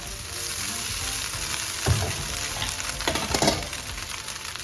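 Singapore-style noodles sautéing with vegetables and curry powder, a loud, continuous hissing sizzle with a few stirring scrapes and knocks.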